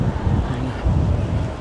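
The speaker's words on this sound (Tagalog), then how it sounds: "mahangin pa rin" Strong gusts buffet the microphone on a downtown Fremont Street walk, a brief, loud rumbling wind roar with no voices.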